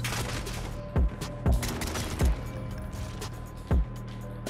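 SKS marksman rifle shots in a video game: four sharp, loud reports spaced irregularly about half a second to a second and a half apart, over a steady bed of game ambience and mechanical clatter.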